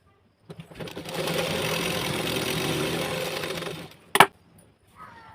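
Sewing machine stitching the lining of a blouse, a steady close whir running for about three seconds, then stopping, followed by a brief sharp mechanical clatter and a short soft rustle.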